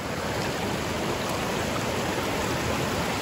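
Water running steadily over the rocks of a creek crossing on a hiking trail, a continuous close rushing wash at even loudness with no voices.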